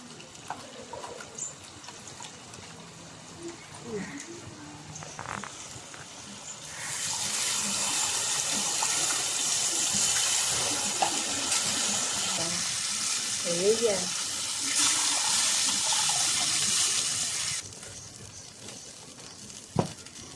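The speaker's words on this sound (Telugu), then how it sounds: "కొంచెం వాటర్ అయితే యాడ్ చేస్తున్నాను." Water pours steadily into a pot of dried fish and tamarind curry for several seconds, a broad rushing splash that stops abruptly, with quiet kitchen clinks before and after.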